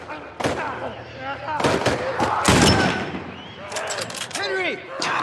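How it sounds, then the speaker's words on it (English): Gunfire in The Last of Us Part 1, with several loud, sharp reports spread across a noisy game scene and a voice talking over them. "This takes so long to reload and shoot."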